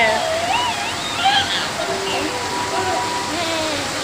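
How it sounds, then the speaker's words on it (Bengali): Steady, dense rush of falling water fills the clip, like a hard downpour, with a few voices faintly audible over it. "প্রচুর বৃষ্টি হচ্ছে আজকে"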